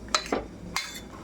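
Three or four quick clinks of a spoon against a pot as boiled chickpeas for kadala curry are stirred, sharp metallic taps close by over a quiet background.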